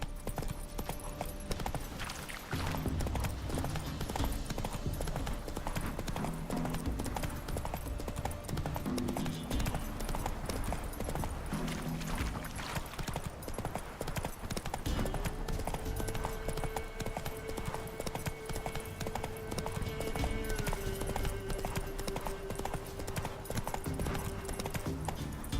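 Hooves of a horse in a video game clip-clop in a steady, fast galloping rhythm throughout, loud and close, with game music and a sustained tone layered underneath.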